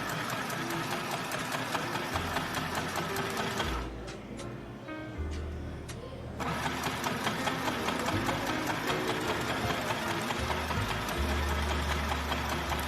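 Mini sewing machine stitching under pedal control, a steady rapid mechanical whir and tick that runs almost throughout, briefly easing in pitch for a couple of seconds before picking back up, close and loud.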